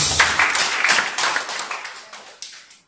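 A church congregation applauds, a dense wash of clapping that starts loud and gradually fades away over a few seconds.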